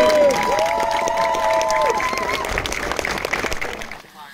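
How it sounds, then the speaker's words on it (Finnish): An audience at an event in Jyväskylä breaks into loud applause with cheering, while an amplified voice talks over it, before the clapping fades out at the end. "Annetaan vielä Raikon aplodit tämän päivän kolmikolle."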